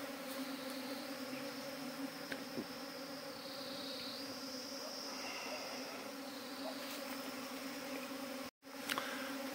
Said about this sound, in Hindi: जो मधुमक्खी का स्वार्म बाहर से आया वो नेचुरल अपने आप ही